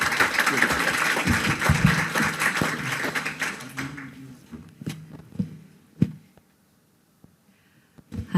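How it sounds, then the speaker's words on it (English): A conference audience claps for an opening panel for several seconds, then the applause fades into a few scattered claps and near silence. "give a round of applause to our opening panel members"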